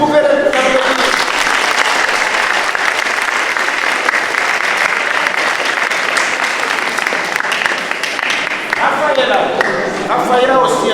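A church congregation applauds Jean-Pierre during a closing Mass, steady dense clapping filling the space for several seconds, with voices audible at the start and end.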